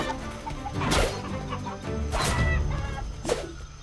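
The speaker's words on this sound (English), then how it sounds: "Oh, it's level 400 chicken." A level 400 chicken in the video game Atlas clucks in three short, sharp bursts spaced about a second apart, fairly close and clear over a low, steady game ambience.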